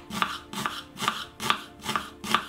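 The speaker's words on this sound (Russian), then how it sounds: "Лук нарезаем полукольцами." A knife slices an onion into half-rings on a cutting board, six even strokes in a steady rhythm, close and fairly soft.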